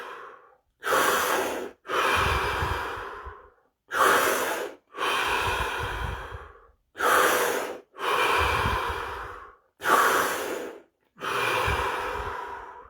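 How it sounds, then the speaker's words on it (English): Five deep, slow breaths during a meditation exercise, each a sharp inhale followed by a longer audible exhale, evenly spaced, close and clear with silence between them. "5 deep breaths"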